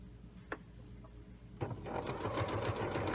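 A sewing machine stitching tabard fabric runs in a steady, close mechanical whir that starts after a brief quiet pause with a faint click, then continues loud and even to the end.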